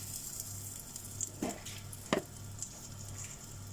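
Asafoetida (hing) hits hot oil in a pan where mutton kofta has been frying, giving a soft sizzle with two brief louder bursts of crackle over a low steady hum, heard up close.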